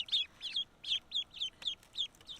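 Rapid high-pitched peeping from runner ducklings, about a dozen short chirps in a loose, quick rhythm, close by and fairly clear against a quiet background.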